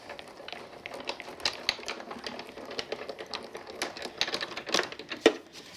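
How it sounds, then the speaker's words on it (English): A die-cutting machine is cranked to feed a piece on a cutting plate through the rollers, giving a rapid irregular series of soft clicks and ratchety taps at close range, fairly quiet and without talk. "I'm just going to take my piece and put it on the cutting plate and run that through."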